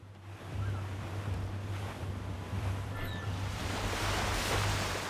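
A sailing ship cutting through open ocean waves in Assassin's Creed IV Black Flag, a steady rushing wash of surf and wind with a low droning hum underneath throughout.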